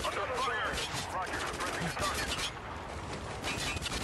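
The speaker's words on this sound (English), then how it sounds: "Who's shooting at you?" Rapid bursts of gunfire in the video game Spec Ops: The Line, fairly faint, crackling and clattering over a busy background, with people talking over it.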